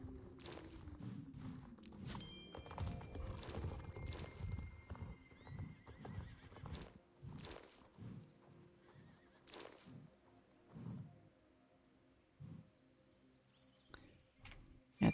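Horses in the Star Stable Online video game clip-clop on hooves with repeated neighs and whinnies, fairly quiet, irregular hoof steps mixed with several distinct calls, no talk.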